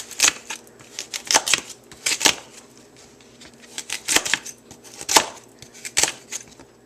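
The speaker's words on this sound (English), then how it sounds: "Veggies are chopped." Knife chopping vegetables on a board for navy bean soup, close sharp cuts in irregular bursts of quick strokes with short pauses, no talk.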